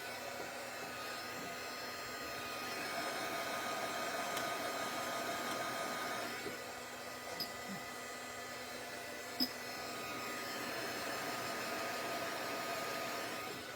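Hair dryer blowing steadily on something only slightly damp, a continuous broadband whoosh running the whole time at moderate level with a few small clicks and no talking.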